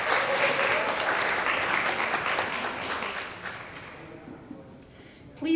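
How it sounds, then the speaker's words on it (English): A crowd at an international student graduation celebration gives a warm round of applause, dense and loud at first, then thinning into scattered claps and dying away before a voice cuts in at the end. "Please give them a round of applause."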